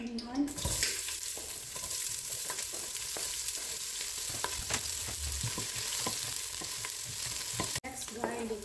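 Onion sizzles and crackles in hot oil in a pan while being stir-fried for menudo, a steady close frying hiss with light stirring scrapes throughout.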